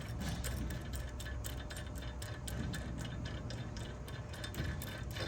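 A wrench ratchets a 5/8 packing gland bolt on a Flo-Tite RF15/30 valve, producing a rapid, even series of metallic clicks over steady background noise, close and moderately faint.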